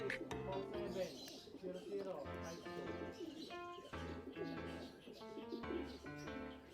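Racing pigeons cooing at their loft, soft repeated coos and murmurs close by, overlapping with people talking throughout.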